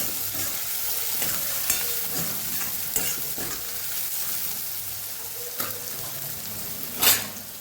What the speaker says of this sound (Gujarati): ડુંગળીને સરસ આપણે સાતળી લેવાની છે।